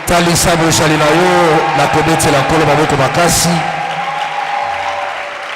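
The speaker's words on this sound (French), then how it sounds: "Manifestez votre présence par des acclamations." Loud crowd applause and cheering at a church service fill the space, a dense wash of clapping with voices and shouts over it that slowly thins toward the end.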